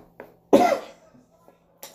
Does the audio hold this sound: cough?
yes